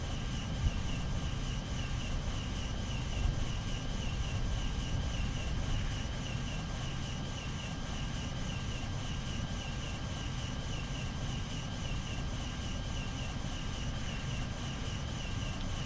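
An Airbus A320 in the FSLabs flight simulator game rolls for takeoff at night, a steady low engine roar with a thin whine above it that stays constant and fairly distant throughout.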